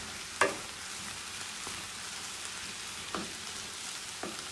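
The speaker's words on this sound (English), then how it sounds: "And you want to let that simmer for a while as well." Jalapenos and sauce simmer in a pan with a faint, steady sizzle, broken by a few soft pops and clicks, with no voices.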